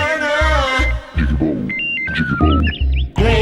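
A mobile phone ringtone plays a bright, repeating electronic melody in a Tamil horror film scene, rising over steady low background music and thumping beats.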